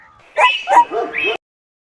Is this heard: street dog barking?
yes